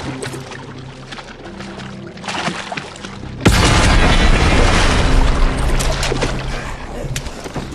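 A grenade detonates in the VR game Saints and Sinners Retribution, a sudden loud close blast followed by a long roaring, debris-filled wash that slowly fades.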